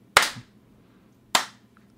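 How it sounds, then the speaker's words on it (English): Two sharp, loud hand claps ring out about a second apart, each a crisp isolated crack with a short decay, marking a countdown before recording begins. "This is where we clap."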